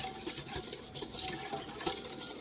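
Dry granola ingredients, including brown sugar, tossed and mixed in a bowl, uneven rustling and scraping strokes with light clinks of a utensil against the bowl, close and moderately loud, no talking.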